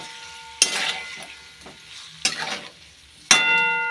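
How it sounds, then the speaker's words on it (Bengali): Meat frying in a pan with turmeric and salt, a steady sizzle broken by three loud scraping stirs of a utensil against the pan, close by and with no voices. "দিয়ে এখন মাংসটা ভেজে নিই"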